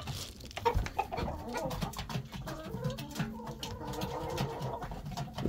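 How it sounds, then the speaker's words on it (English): A hen sitting on a clutch of eggs in a nesting box gives soft low clucks, faint and muffled, over a dull rumbling background. "it's probably one of the hens in the box, the one that's sitting on all the eggs"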